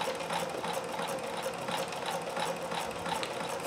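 A Singer sewing machine with a 26538 embroidery attachment stitches small stitches in variegated denim-style thread, a steady fast mechanical whirring and clatter with a regular pulsing rhythm, close and continuous.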